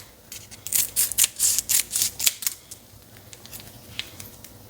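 Scissors snip at a package in a kitchen, giving a quick run of sharp, crisp cutting clicks up close, then a few scattered fainter snips, with no talking.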